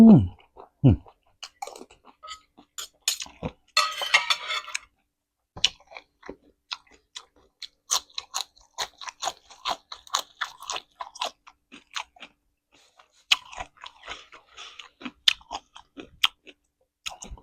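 Close, crisp crunching as young kale stems and tender leucaena shoots are bitten and chewed alongside a spicy oyster papaya salad, with irregular bites and chews separated by short pauses and no talking.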